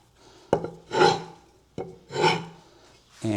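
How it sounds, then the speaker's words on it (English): A chisel rubbed back and forth on a sharpener to take off the burr gives three close, separate rasping strokes, each opening with a sharp scrape, heard alone with no talk. "you can just rub your chisel both directions"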